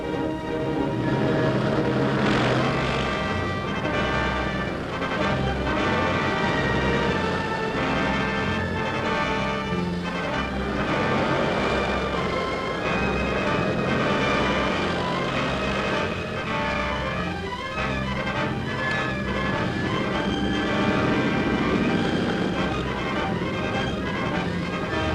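Squadron of World War II propeller warplanes with auxiliary long-range tanks droning off toward the front over Western Europe, a dense, loud, continuous multi-engine roar with layered tonal hum throughout, no talk.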